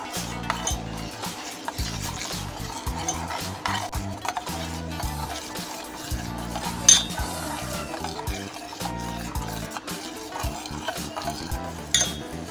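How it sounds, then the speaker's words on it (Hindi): A spoon stirs a packet of strawberry jelly into hot water in a pan, giving steady clinking and liquid swirling sounds that run continuously at close range with no talking. "चम्मच को मुसलसल हिलाते जाएंगे।"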